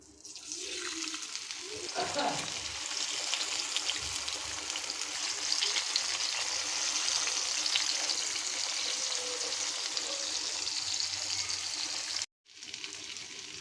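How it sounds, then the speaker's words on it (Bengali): Chicken sizzles steadily in hot oil, a constant crackling hiss that briefly cuts out near the end. "মাংসগুলো আমি ভেজে নিব।"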